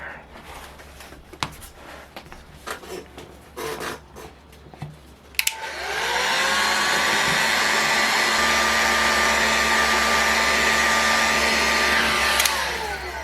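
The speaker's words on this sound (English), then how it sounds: "get this thing heated up and get this crankshaft out" Heat gun warming the crankcase of a Saito FA-50 model engine to free the crankshaft: after a few seconds of handling clatter it switches on to a loud, steady, close blowing roar with a faint whine that holds until the end.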